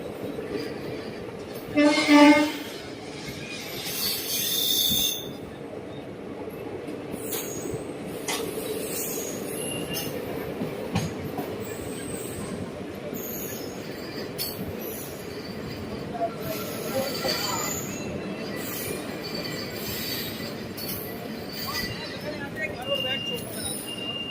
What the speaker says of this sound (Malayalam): ട്രെയിൻ ഇപ്പോൾ നാഗർകോവിൽ ടൗൺ റെയിൽവേ സ്റ്റേഷനിലോട്ട് എത്തിക്കൊണ്ടിരിക്കുകയാണ്